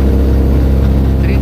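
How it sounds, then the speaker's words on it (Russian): The small electric motor of a Pipistrel Taurus G2.5 electric glider drones loudly and steadily in flight, close up, with constant wind rush and no pauses. "Понятно, что это мотор."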